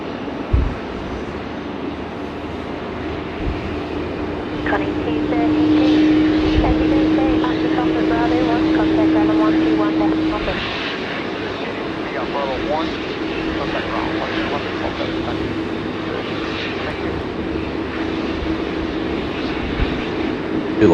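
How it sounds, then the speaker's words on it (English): A DHL Boeing 777 freighter rolls along the runway at Sydney Airport. Its jet engines make a broad, continuous roar that swells and fades slightly as it passes, heard from a distance with voices over it. "We've got our DHL 777 freighter now just rolling."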